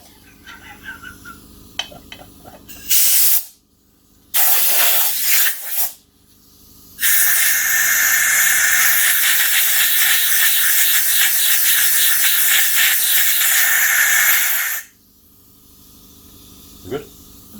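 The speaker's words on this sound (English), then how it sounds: "Blowing the silicone out." Compressed air blasting old silicone sealant out of a Suzuki DR200 motorcycle clutch part in a workshop: two short loud hissing bursts, then a long steady roaring blast of about eight seconds, with brief talk at the end.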